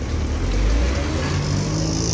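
Several road vehicles pull away together, a steady low engine rumble with a faint rising drone running continuously throughout.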